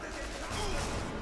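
Gunfire in the stealth shooter Sniper Elite V2: a short, dense rumble of shots and booming game sound that swells briefly.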